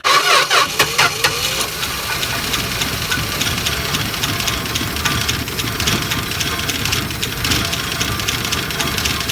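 A 1963 Dodge 330 truck's large engine, first run in 25 years, cranks and catches with a few sputters, then settles into a loud, rough, continuous idle close to the microphone.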